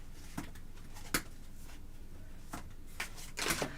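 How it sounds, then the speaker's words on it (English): Quiet, close shuffling of tarot cards, soft papery riffles and flicks in irregular bursts, with a brisker flurry near the end. "Are you going to shuffle?"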